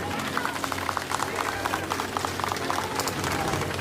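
An audience at a political gathering in India claps to welcome the arrival of MP Kadam Singh Hansraj. The uneven, scattered hand claps run throughout, over a murmuring crowd and a steady low background hum.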